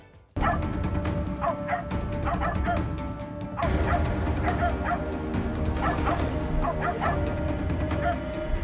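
A dog in the Assassin's Creed Shadows game barks and yips repeatedly in quick rhythmic bursts, loud and near, with whimpering tones and background game sound running underneath.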